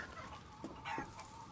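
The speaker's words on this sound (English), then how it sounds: "Chickens with bullets in them." Chickens in the video game Resident Evil Village cluck faintly, with a few short, soft clucks scattered over quiet background noise.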